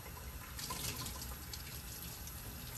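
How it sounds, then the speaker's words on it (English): Water runs steadily from a sink tap while impression trays are rinsed, a soft, even hiss of flowing water with faint splashing, fairly quiet and continuous with no talk. "bring it over to the sink where you're going to thoroughly rinse off"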